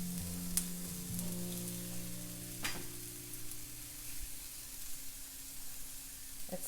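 Onions and green peppers sizzle on a flat top griddle for ribeye Philly cheesesteaks, a continuous close frying hiss broken by a couple of sharp scraping clicks.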